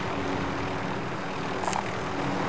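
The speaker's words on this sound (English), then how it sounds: "Helicopter ahead." A helicopter flies nearby in a battle royale video game, giving a steady, droning rotor and engine hum that runs unbroken through the whole stretch with no voices over it.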